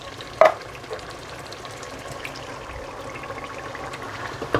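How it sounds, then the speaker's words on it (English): Spices and chopped tomatoes land in a hot pan for a curry base gravy masala: a sharp clatter at the start, then a steady, close sizzle and bubbling fry. "So straight in with the spices, and then the chopped in tomatoes."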